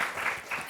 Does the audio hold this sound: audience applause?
yes